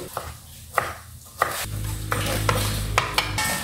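Garlic cloves finely sliced with a knife on a board, a quick run of sharp chopping taps, close, with a pan sizzling underneath partway through and no talking.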